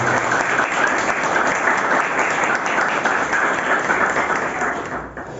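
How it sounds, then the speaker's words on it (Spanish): A church congregation gives sustained, energetic applause during a service on prayer, a thick, continuous roar of clapping that holds steady and tapers slightly at the end. "Dale un fuerte aplauso a la presencia de Dios."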